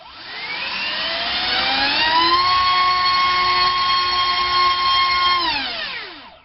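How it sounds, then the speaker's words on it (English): A DYS 2205 2750kv brushless motor on 3S spinning a HobbyKing 5x4 three-bladed prop winds up to a loud, piercing whine, holds steady at full throttle, then spins down, close and without talk. "this is a HobbyKing 5x4 3-bladed prop on 3S"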